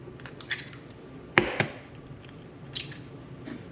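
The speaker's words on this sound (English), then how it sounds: "And now you're gonna just crack 2 eggs." Two eggs cracked for a meatloaf in a home kitchen, a sharp close crack followed by a soft squishy split, with small taps around it over quiet room noise.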